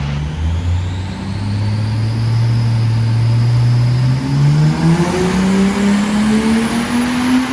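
A Toyota Crown JZS171 with a 1JZ VVTi engine and a pod filter intake in place of the airbox revs up loud and close, its pitch climbing smoothly in one long sustained run with a throaty induction roar.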